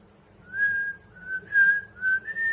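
A person whistles a short wavering tune, the melody rising and dipping across several sustained notes over a faint low background hum, close and clear with no talking.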